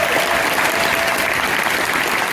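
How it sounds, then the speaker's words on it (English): Dense, loud audience applause fills a summer jazz camp concert for young soloists, a continuous wash of many hands clapping close by with no talk over it. "Can we get a round of applause for them?"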